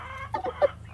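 Black Copper Marans hens cluck softly in a few short, close, conversational bursts near the coop, with no other voices.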